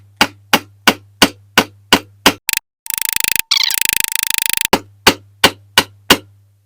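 A small hammer peens a rivet on the axle of a diecast Dinky Toys military ambulance, giving sharp, evenly spaced metallic taps close by, then a burst of rapid buzzing strikes before the steady tapping resumes.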